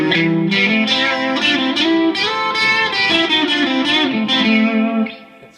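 An electric guitar played through a NUX MG-200 modeling processor on a dual line solo effect rings out as a sustained, distorted lead melody with a harmonized second line, fading at the end.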